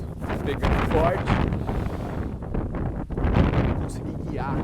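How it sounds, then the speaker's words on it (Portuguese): Strong wind in Patagonia buffets the microphone with a loud, continuous rumbling roar that gusts and surges throughout, while a person talks underneath. "O vento pegando forte,"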